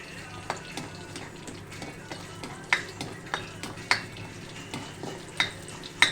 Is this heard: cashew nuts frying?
yes